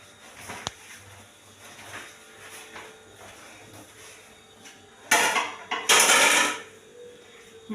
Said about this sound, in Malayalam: ഞാൻ പ്ലേറ്റ് എടുത്തു.